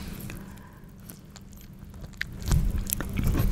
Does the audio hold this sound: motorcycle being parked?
no